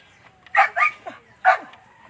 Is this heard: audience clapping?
no